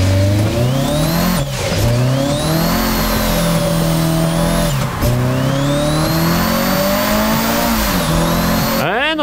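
A Toyota AE86 with a lengthened gearbox revs hard in a racing video game, the engine note climbing repeatedly through the gears with brief dips at each shift, loud and close, with a voice talking over it.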